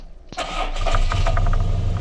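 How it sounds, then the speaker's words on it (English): A light aircraft's engine cranks with a sharp initial catch, then fires up and settles into a steady, close, loud running rumble with a few uneven pulses as it stabilises after a new fuel system was fitted. "And there's the engine started."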